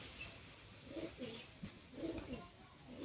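Domestic pigeons, including a female, give low soft cooing calls in a few short bursts, close but faint, with quiet background noise.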